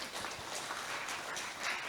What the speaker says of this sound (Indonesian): Tepuk tangan untuk Bu Nit.